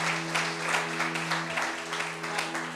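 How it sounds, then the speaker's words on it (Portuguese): A church congregation claps in a reverberant hall. The applause is a steady, moderately loud wash of hand claps over a constant low hum, with faint voices mixed in. "aplaude ao Senhor mesmo"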